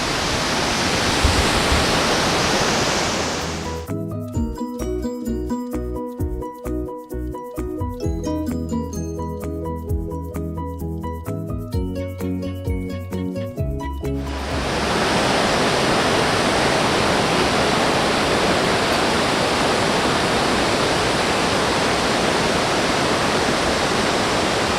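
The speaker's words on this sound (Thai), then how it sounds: "ฟังเสียงน้ำตกครับ" Wulai waterfall in Taiwan roars as a loud, steady broadband rush of falling water, broken midway by a stretch of music before the torrent returns.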